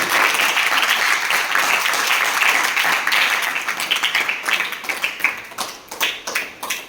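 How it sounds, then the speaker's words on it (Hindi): Students in a classroom clap loudly together, dense sustained applause that thins into scattered individual claps toward the end. "जोरदार तालियां लगाएं।"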